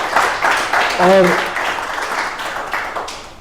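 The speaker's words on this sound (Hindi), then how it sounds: "तालियां इनके लिए कि 7 साल।" An audience claps at an interview event, a short burst of dense, fairly loud applause with a brief spoken word heard over it.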